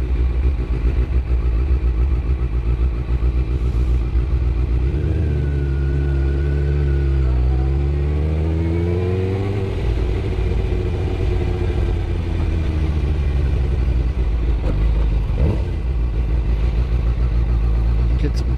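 Steady motorcycle engine drone while riding, loud and close throughout, with rising and falling revs in the middle as the bike accelerates and shifts; wind rumble underneath and no one talking.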